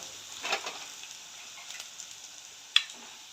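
Tomatoes go into a pan of sautéed ginger and green chili for upma, giving a soft, steady sizzle with a few brief hiss bursts and one sharp clink, quiet and close with no voices.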